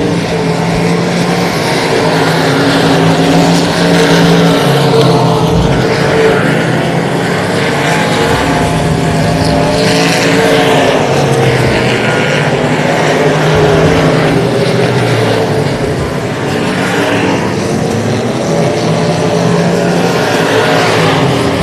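Race cars lapping at Texana Raceway Park, a loud continuous engine roar that swells and fades as cars pass, with no clear talk.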